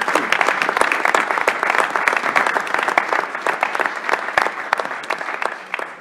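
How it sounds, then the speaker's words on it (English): Sustained applause from a university board meeting audience: many hands clapping with distinct sharp claps standing out near and far, tapering slightly toward the end. "So let's give everyone at UW-Parkside a big round of applause."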